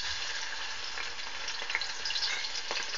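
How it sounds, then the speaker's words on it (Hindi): Garlic ginger paste frying in hot oil, a steady bright sizzle with occasional crackles and light stirring, close and alone. "तो इसमें हम डालते हैं लहसुन अदरक का पेस्ट।"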